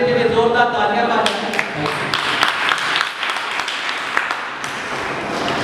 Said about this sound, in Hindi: Give them a big hand.